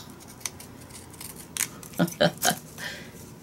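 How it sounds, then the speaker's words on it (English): Several quick snips of dull fabric scissors trimming ribbon, close and fairly quiet, coming in a short cluster. "We'll just trim that just a smidgen with my dull fabric scissors."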